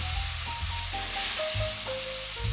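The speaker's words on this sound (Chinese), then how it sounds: "炒掉水分， 加入黄酒，再翻炒几下" Salt pork with scallion, ginger and yellow rice wine stir-fries in a wok of rapeseed oil, a loud continuous sizzle with low clattering of tossing and stirring beneath it.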